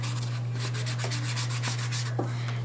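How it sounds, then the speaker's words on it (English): Light hand sanding on wood to smooth it, a soft, steady rubbing scrape repeated in gentle strokes over a constant low mains hum, with no talk. "Now I'm not sanding real hard, I'm not taking away a lot of material"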